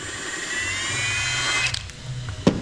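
A power tool whirs steadily on the suspension arm bolts of a Volkswagen Passat with failed bushes, one continuous close drone with small pitch dips, ending in a sharp metallic clank.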